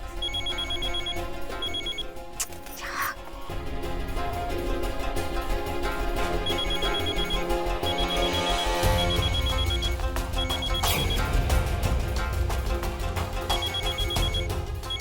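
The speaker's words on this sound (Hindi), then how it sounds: "फोन उठाओ" A telephone rings repeatedly in short electronic bursts over a busy background of music and noise.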